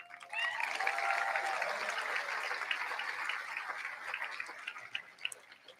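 Guests and seniors applaud the faculty and staff at the Milton High School 2022 graduation ceremony; a fairly distant, soft wash of clapping rises quickly, then slowly thins out.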